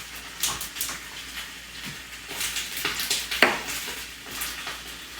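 A knife cuts the ends off jalapeño peppers on a kitchen board, giving a few scattered, fairly close taps and clicks, one sharper chop standing out, over quiet kitchen noise.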